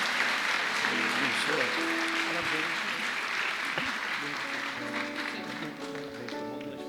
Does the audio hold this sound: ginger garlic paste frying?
no